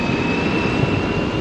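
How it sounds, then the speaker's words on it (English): A subway train rumbles past while passing beneath a bridge near Worth Street and West Broadway, a loud, steady, broadband roar that fills the whole clip without letting up. "Subway going by."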